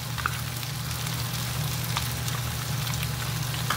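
Ketchup and chipotle sizzling in a pan as they cook beside shrimp, a steady close frying crackle with scattered pops, continuous throughout and with no talking.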